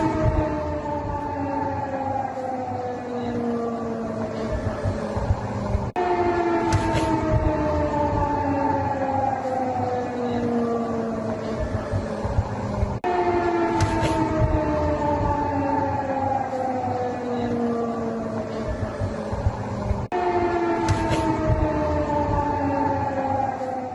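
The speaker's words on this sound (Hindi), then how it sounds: "एयर रेड अलर्ट सायरन की आवाज भी सुनी गई" Air raid alert siren in Poland wails continuously, its pitch sliding down in repeated long sweeps that restart every few seconds, loud and sustained with no voices over it.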